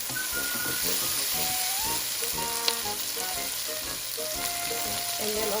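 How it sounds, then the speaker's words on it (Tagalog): Garlic and onions sauté in a pan with a steady, close sizzle and occasional stirring scrapes, with a faint tonal background and no talk over it. "stir it until the garlic and the onions turn light brown"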